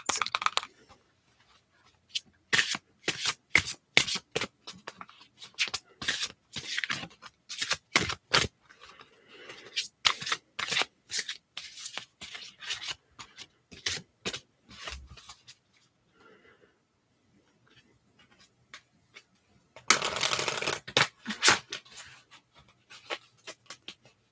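Flower Magic Oracle cards are shuffled at close range, soft papery riffles and slides coming in quick bursts with brief pauses, followed by a denser flurry near the end, with no talking over them.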